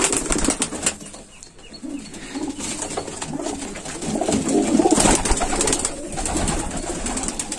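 Pigeons being packed for transport in Lucknow give soft cooing and bursts of wing flapping, fairly close and continuous, with a busier stretch of fluttering in the second half.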